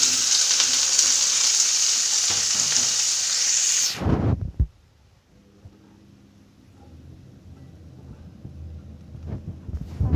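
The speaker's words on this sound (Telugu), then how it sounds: "పన్నీర్కి ఆ జీరా మొత్తం పట్టే వరకు వేయించుకోవాలి" Paneer frying in ghee with cumin seeds for palak paneer sizzles loudly and steadily for about four seconds, then drops off abruptly to a low, quieter simmering hiss with occasional faint stirring sounds.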